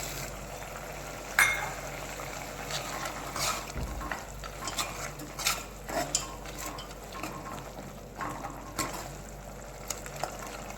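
Chavanu curry is stirred in a pan, with a steady close sizzle and scraping spoon strokes, occasional louder clinks and stirs, and no voices.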